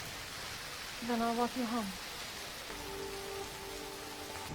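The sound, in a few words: rain falling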